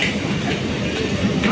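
A crowded passenger train runs between Beldanga and Ranaghat, heard from inside the carriage. A brief, continuous low rumble of the wheels and carriage is loud and steady.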